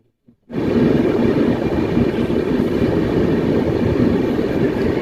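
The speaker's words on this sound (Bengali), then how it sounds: "ট্রেন একটু দেরিতে ঢুকলো দার্জিলিং মেল বর্ধমান জংশন" Darjeeling Mail train pulling into Bardhaman Junction, a loud, steady rumble of rolling coaches that starts abruptly after a brief quiet moment and holds without a break.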